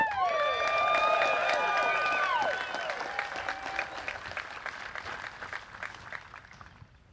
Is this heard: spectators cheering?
yes